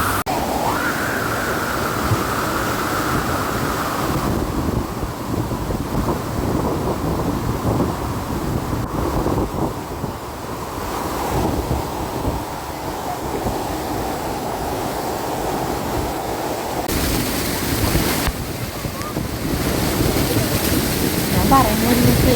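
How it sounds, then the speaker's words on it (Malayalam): A waterfall with strong flow rushes and roars loudly and continuously, a broad close wash of water noise throughout with no clear speech. "അത്ര മനോഹരമാണ് ആ വെള്ളച്ചാട്ടത്തിൻ്റെ ഒഴുക്കും ശക്തമായ ഒഴുക്കും"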